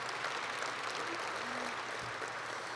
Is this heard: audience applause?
yes